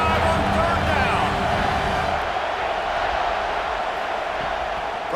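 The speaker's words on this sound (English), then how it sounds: "The Buckeye crowd alive on third down." Stadium crowd at an Ohio State home game in EA College Football 26 roars steadily and loudly, a dense wash of cheering that fades slightly, with a commentator talking over it.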